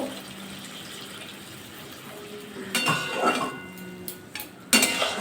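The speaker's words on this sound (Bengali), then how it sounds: "এখন জলটা দিলাম আমি ধুয়ে আর একটু জল দেবো" Water pours into a cooking pot, a soft running fill followed by a few clinks and knocks of metal pot and utensils close by.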